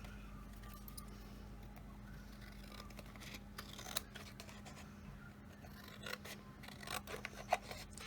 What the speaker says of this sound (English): then I'll cut off the excess